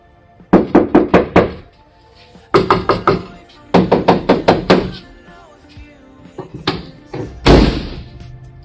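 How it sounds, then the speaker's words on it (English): Knuckles rap on a bare car door panel before sound deadener is added, giving several quick bursts of four or five hollow knocks separated by pauses, close and fairly loud. "we'll do the knock test so you can see the differences"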